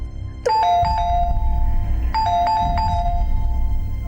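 A doorbell rings out two clear ding-dong chimes, a couple of seconds apart, over a steady low background hum.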